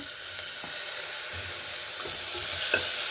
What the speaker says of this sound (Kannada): ಇದು ಸ್ವಲ್ಪ ಫ್ರೈ ಆಗಲಿ ಎಣ್ಣೆಯಲ್ಲಿ